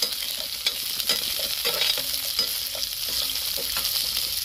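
Amla (Indian gooseberry) going into a pan for a mixed pickle, a steady frying sizzle close by with soft stirring clatters and small thuds, with no voices.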